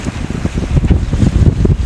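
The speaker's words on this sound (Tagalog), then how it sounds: "sobrang lakas ng hangin dito ngayon" Strong typhoon wind roars along the coast near El Nido, a steady loud buffeting rush with gusting surges and rough sea waves beneath, with no one talking.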